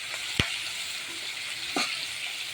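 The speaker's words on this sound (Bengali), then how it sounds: "এক পিঠ ভাজা হয়ে গেছে, আর এক পিঠ ভাজা হলেই তুলে নেব।" Fish frying in a pan, a steady close hiss of hot oil with two short sharp pops or scrapes, no talk.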